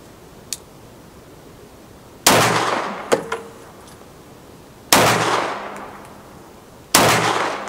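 Handgun shots with a light double-action trigger fired during a shooting session: three sharp, loud reports, each trailing off in a short echoing decay, plus a few smaller clicks and clanks between them and no talking.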